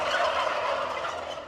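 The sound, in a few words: turkeys gobbling in a barn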